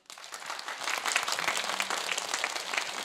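An audience applauds after a lecture by a general, with dense, steady clapping from many hands that starts abruptly and carries on throughout.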